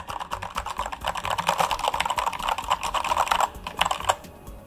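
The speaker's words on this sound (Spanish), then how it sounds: "inventándome el texto, o sea, aporreando el teclado," Frantic, nonstop typing on a computer keyboard set up with iCUE software, keys hammered as fast as possible in a loud, dense clatter of clicks with a brief pause near the end and no talking.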